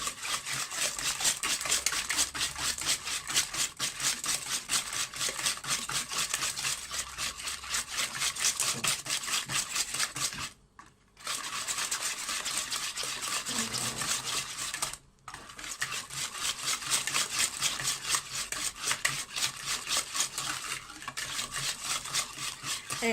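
Eggs and sugar for a simple homemade cake are beaten fast together in a bowl, giving a dense, continuous scraping rattle that runs for most of the time, with two brief pauses. Nobody talks.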